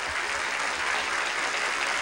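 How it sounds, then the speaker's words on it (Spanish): A television studio audience applauds for a sports commentator, a dense, even wash of clapping at close range, loud and continuous with no voices over it. "para quien pido un gran aplauso."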